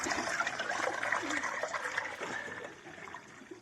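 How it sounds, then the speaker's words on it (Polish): Water being poured into pigeon drinkers in a loft for racing pigeons, a soft, continuous trickle and splash heard fairly close but at low volume, easing off slightly toward the end. "Ja dolewam e, wodę, żeby miały pełno."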